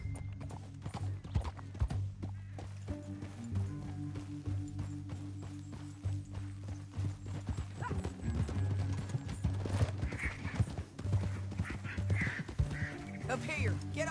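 Horse hooves clip-clop steadily in Red Dead Redemption 2, a quiet, even rhythm of hoofbeats over about fourteen seconds, with people talking over it and occasional duck-like quacks in the background.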